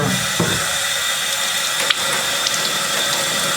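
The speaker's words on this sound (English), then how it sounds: "And then rinse everything out, both on the inside of the bore." Warm water runs steadily from a tap to rinse the bore and threads of a rust-bluing Colt Lightning gun, a continuous hissing splash with a brief clatter partway through and no talking.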